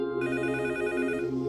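A telephone rings in a film scene with a steady, continuous electronic ring that runs unbroken, close and clear, with no voices over it.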